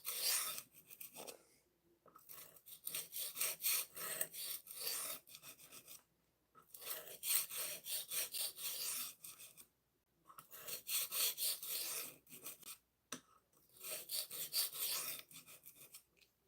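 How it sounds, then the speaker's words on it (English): A kitchen knife edge is honed with repeated rasping strokes. The strokes come in several bursts separated by short pauses, close and fairly quiet. "Just kind of hone that edge real nice."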